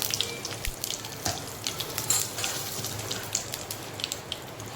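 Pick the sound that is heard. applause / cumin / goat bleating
cumin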